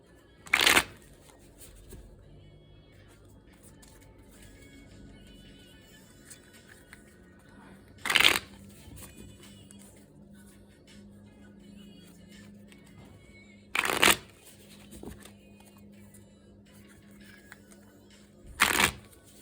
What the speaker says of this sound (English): I'm going to go ahead and shuffle the first deck just a few more times